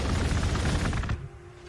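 Unit gunfire in Warhammer 40,000: Gladius - Relics of War, a rapid rattling volley of overlapping shots and impacts that holds loud for about a second, then cuts off abruptly to a quiet hum.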